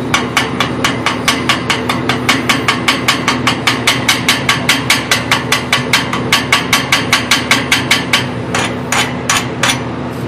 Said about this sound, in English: What you need to use to chip this off is what they call a chipping hammer